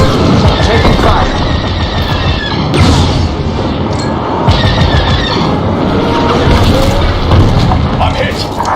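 Blasts of incoming laser fire pound a starfighter in Star Wars Squadrons, loud repeated booming hits over engine roar, with a voice speaking over the barrage.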